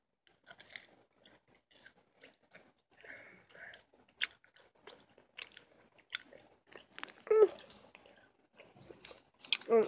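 Someone chews sour gum close to the microphone, producing quiet, irregular wet smacks and soft crunchy bites scattered throughout, with occasional small mouth clicks.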